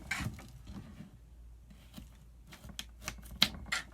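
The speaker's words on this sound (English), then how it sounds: "we're going to take the carrots, and we're going to need about 5 of them, and we're going to quickly cut off the tails" A knife chops the ends off carrots on a cutting board while making a crockpot whole chicken, giving a loose series of quiet, close, crisp taps and clicks with short pauses between, with no talking over them.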